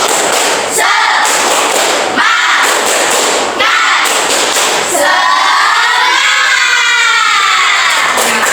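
A school class claps a rhythmic cheer pattern together, loud bursts of group clapping and shouted chanting that repeat several times, ending in a longer sustained burst.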